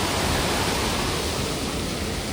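Steady, dense monsoon rain hisses continuously without pause, a broad even wash of sound with no voices.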